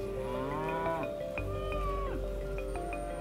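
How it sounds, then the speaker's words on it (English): Cattle mooing on an Australian farm paddock, several drawn-out overlapping lowing calls at moderate distance over a steady low rumble of wind or machinery. "For Rod, finding the time to move his cattle to fresh paddocks could soon be a thing of the past."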